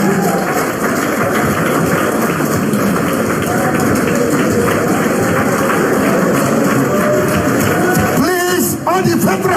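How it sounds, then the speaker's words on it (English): A large outdoor crowd at a live outreach rally claps continuously for veterans, a dense rain-like patter of hands that holds steady, with voices rising near the end. "let us give them a very big round of applause."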